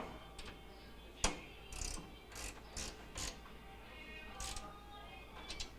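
Screws being tightened on the door handle of a Whirlpool microwave, model MMW9730A500, during a broken-handle repair: faint, close ratcheting clicks and small scraping ticks in short bursts, quiet room, no talking.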